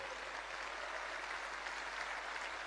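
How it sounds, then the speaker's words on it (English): An audience applauds the event organisers during a session, a steady, even wash of clapping, fairly faint and distant, with no break. "please give a round of applause to all of them"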